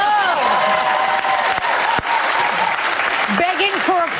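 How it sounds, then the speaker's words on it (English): A television talk-show studio audience applauds under a talk segment, with speech and a voice heard over the steady clapping for most of the stretch. "Begging for applause"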